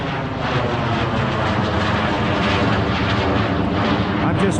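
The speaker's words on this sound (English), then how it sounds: "plane to go over so I could hear the RC" A fixed-wing airplane passes overhead outdoors in an open field, its engine a steady, loud, continuous drone that fills the whole stretch without fading.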